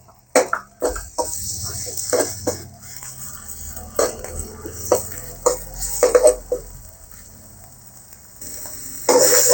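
Thai curry paste sizzling and spattering in hot oil in a pan, with intermittent scraping and stirring clatter of a utensil against the metal, close by.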